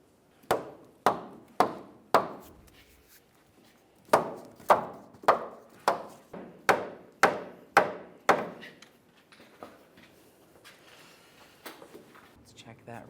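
A rubber mallet knocks a lower control arm bushing into a 2002-2007 Chevrolet's front suspension, two rapid bursts of sharp, close taps, about seven blows each, separated by a short pause, followed by quieter handling noises.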